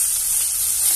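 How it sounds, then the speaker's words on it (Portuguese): Pork ossobuco sears in a hot pan, giving a steady, loud, continuous high sizzle and hiss with no breaks and no voices. "nós vamos dourar todos os lados e voltamos"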